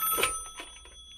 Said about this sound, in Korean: 한참 뒤 전화가 왔다.